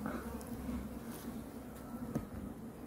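Honey bees buzzing around an opened top bar hive beside a reservoir in May, a soft, continuous drone with a few closer passes, faint and without speech.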